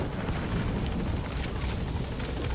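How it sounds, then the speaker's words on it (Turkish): A helicopter in the video game Metal Gear Solid 5 keeps up a steady whirring rotor drone with faint rhythmic chopping, heard alone at an even level. "Bakın helikopter."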